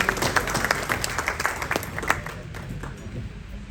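Audience at a University of Karachi alumni association fundraiser applauding, steady moderate clapping from a crowd throughout, heard from within the room.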